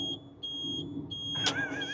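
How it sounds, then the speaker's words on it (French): A car's turn signal chimes in steady repeated high electronic beeps resembling a smoke alarm, about every third of a second, over a low idling engine, ending with a brighter warbling tone. "les clignotants, ils font un bruit de zinzin"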